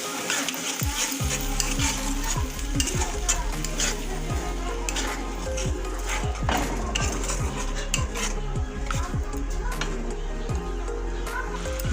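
Lentil kofta curry broth boils and sizzles in a pan while a spoon stirs and clatters against the metal, giving busy bubbling with repeated scraping knocks throughout and no talk.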